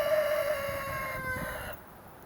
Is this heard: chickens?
yes